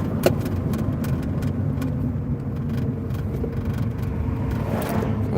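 Road traffic heard from inside a car driving into town: a steady low engine and tyre rumble fills the cabin, with small intermittent clicks and rattles and a faint passing swell near the end.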